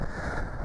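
Strong wind buffets the microphone at a bass-fishing spot, a loud, dense, unbroken roar with no pauses.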